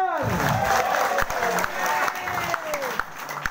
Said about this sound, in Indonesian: Tepuk tangan buat Pak Ganjar